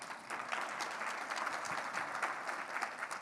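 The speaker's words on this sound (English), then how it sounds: "So a great applause to each of you." Audience applause during a leadership keynote, sustained even clapping from a crowd, fairly faint and distant with a slight rhythmic pulse.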